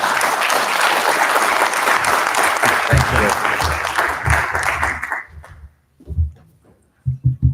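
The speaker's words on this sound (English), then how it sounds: "please give a round of applause to Kirill Goncharov here" Audience applause for Kirill Goncharov at a conference morning session, a loud, dense burst of clapping that fades out after about five seconds, followed by a few faint low thumps and rustles.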